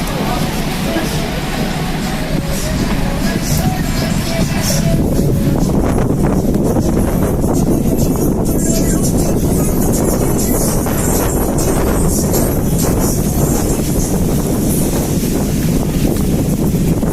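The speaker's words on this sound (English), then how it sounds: "it's because it's super windy right now" Strong wind at an outdoor protest in Toronto buffets the microphone with a loud, steady roar throughout, while a voice talks over it at times.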